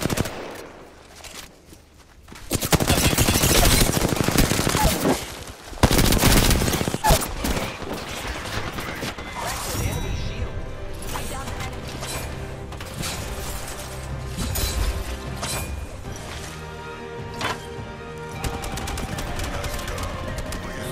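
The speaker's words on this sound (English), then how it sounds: "Opening fire on the enemy. The enemies are shooting at me." Enemy gunfire in an online ranked shooter match: bursts of rapid automatic fire and impacts come in loud clusters early on, then a fainter, busier mix of shots and game effects continues over musical tones.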